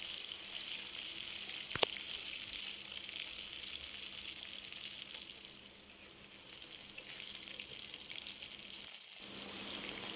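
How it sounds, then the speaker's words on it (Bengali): Potatoes lightly frying in oil tempered with nigella seeds in a pan, a quiet, steady sizzle with a brief sharp click near the start and a short dip in the middle, with no talking. "আলুটা আমি এর মধ্যে দিয়ে দেবো আর আলুটা আমি হালকা ভেজে নেব"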